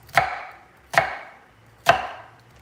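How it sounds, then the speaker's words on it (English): Three crisp knife strikes cut through an onion into chunks on a board, each chop sharp and close, spaced about one second apart with quiet between. "Why don't we cut some of this onion up into chunks"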